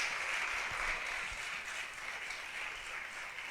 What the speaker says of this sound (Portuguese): Forte aplauso, mais forte esse aplauso.